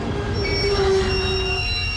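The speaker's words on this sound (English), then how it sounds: "The tram stops just to the edge of the park" A tram pulling into a stop at the edge of a park, its wheels squealing on the rails with a sustained high metallic whine over a low rumbling roll, close and loud.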